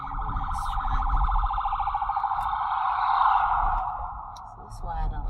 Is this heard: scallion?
no